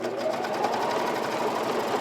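A serger sewing machine stitches elastic onto a classic tee with a steady, fast, even mechanical whirr that is close and continuous throughout.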